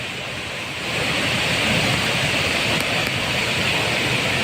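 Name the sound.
swollen river rushing current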